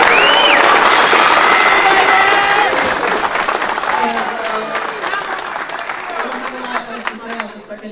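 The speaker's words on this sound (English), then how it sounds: "So give yourselves a round of applause." An audience applauds at an awards gathering. Loud, dense clapping and some cheering start at full strength and fade steadily over several seconds, while scattered voices carry on underneath.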